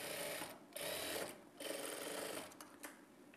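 A sewing machine stitches a blouse in quick bursts, a fast steady whirring buzz broken by two short pauses and a few light clicks near the end, quiet and close with no talk.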